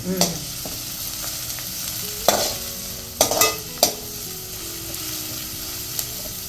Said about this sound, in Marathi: लसूण टाकलंय आणि कांदा टाकलाय बारीक केलेला. मला परतून घेते